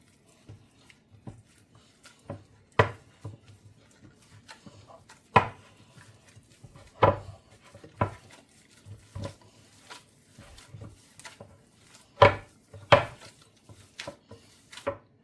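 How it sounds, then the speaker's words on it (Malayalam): A spoon stirs a healthy chocolate sweet mixture with coconut oil in a bowl, producing irregular knocks and scrapes against the bowl, some sharp and close, separated by quiet pauses, with no voices. "ഇനി ഇത് നന്നായിട്ട് മിക്സ് ചെയ്യാൻ പോവാണ്."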